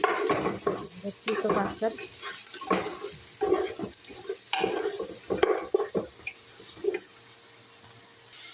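Cumin and whole coriander seeds stirred in a hot pan, a steady sizzle with scraping strokes of the spoon, close and moderately loud, with a few words spoken briefly over it.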